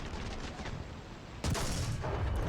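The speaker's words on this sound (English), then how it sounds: "There's explosions going on, I can see gunfire" Tank battle in the video game War Thunder with a StuG and Panzer IV against a Sherman: dense rumbling gunfire and distant explosions, then a sudden loud blast near the midpoint followed by continued heavy roaring noise, no speech.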